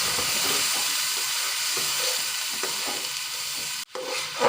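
Spice paste of turmeric powder and roasted cumin powder with a little water sizzles and fries steadily in a pan while being stirred for a North Bengal aloo ghati (mashed potato dish), a continuous close hiss with occasional scraping.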